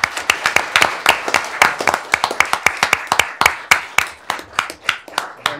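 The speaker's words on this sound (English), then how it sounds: "Let's give him a round of applause for his" A small gathering at a township board meeting claps for a newly promoted sergeant, close, sharp individual claps in a quick uneven rhythm from a few people.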